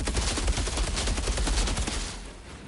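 Rapid, continuous gunfire from the shooter game Outriders, loud and dense bursts packed together for about two seconds before tapering off into quieter fire.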